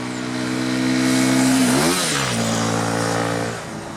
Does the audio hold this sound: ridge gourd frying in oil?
no